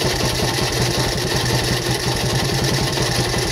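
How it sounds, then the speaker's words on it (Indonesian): A Yamaha Vega ZR motorcycle engine runs roughly at a steady idle, close and loud, with a fast even knocking chatter and no talking. "Jadi ini hidupnya normal ya, cuman suara mesinnya memang sangat kasar ya."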